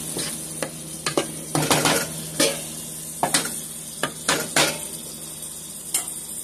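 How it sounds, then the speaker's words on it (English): A corn medley sizzles in a pan while a utensil stirs and scrapes it, with a dozen or so sharp metallic clacks in uneven rhythm over a steady frying hiss, close and loud with no talking. "Give that a stir."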